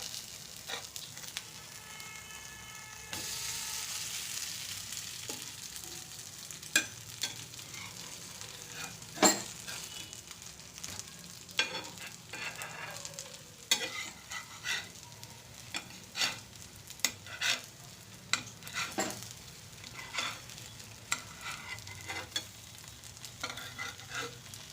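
Breakfast batter ladled into a hot pan fries with a steady soft sizzle, punctuated by sharp clicks and scrapes of a utensil against the pan.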